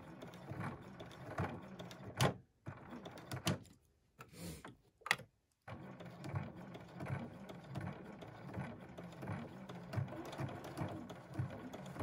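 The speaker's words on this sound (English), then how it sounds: "Do you see the difference in my sewing machine? It's making a louder noise." A sewing machine stitches through thick layers of batik canvas fabric in steady, close runs of rapid mechanical whirring, with brief pauses and a few short clunks between stitching bursts; no one speaks.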